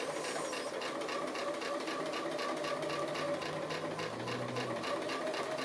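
A sewing machine runs steadily and continuously, stitching the small base outline of an appliqué bobbin shape, a soft even whir held throughout at moderate level with no talking.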